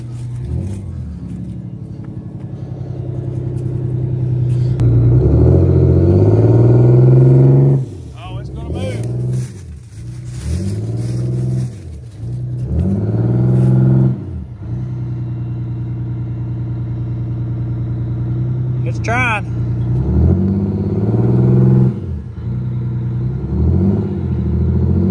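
Two-stroke Detroit diesel in a 1989 Grand Villa running and revving, a loud, close, rumbling engine that rises and falls repeatedly, with people talking over it.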